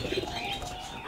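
Male pigeons kept in an open loft give a brief, soft, low coo nearby, with faint chirpy undertones and no speech.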